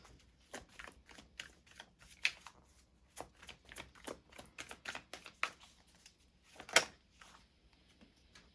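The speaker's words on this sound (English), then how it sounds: "And we'll pull also through tarot cards." Tarot cards being shuffled, a steady run of soft papery riffles and flicks with a few sharper snaps, close and fairly quiet, no talking.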